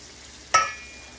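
Onions for a pigeon meat curry hit hot oil in a pan with a single sudden sizzle burst, then settle into a quieter, steady frying hiss that trails off.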